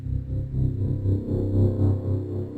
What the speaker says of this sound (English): that's kind of like an in and out drone that just adds nice little tension